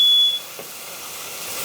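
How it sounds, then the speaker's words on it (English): A smoke or fire alarm beeps while bok choy chars on a griddle during halibut and bok choy cooking; one loud sustained high tone sounds for about a third of a second and then cuts off, leaving faint kitchen background. "I'm getting the fire alarm going off."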